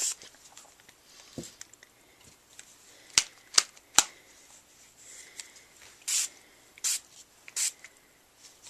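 Glimmer Mist ink is spritzed through a glimmer screen in short bursts, with three quick hissing sprays near the end. Light taps and handling noises come earlier in a quiet room.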